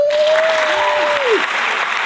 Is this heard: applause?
yes